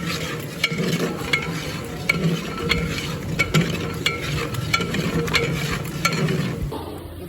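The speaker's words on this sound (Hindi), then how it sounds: "ये गाइस इसमें चावल ऐड करने लगे हैं।" Rice is mixed into biryani in a large pot, producing continuous scraping and shuffling of a ladle through the grains with intermittent clanks against the metal rim over a low sizzling bed, close and fairly loud, without speech.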